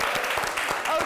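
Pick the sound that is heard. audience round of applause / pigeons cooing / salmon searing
audience round of applause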